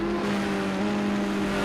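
A Group 5 race car in Project Cars 2 at Long Beach holds a steady, loud engine drone with a strong tonal whine, sustained without a break, as it brakes hard into a corner.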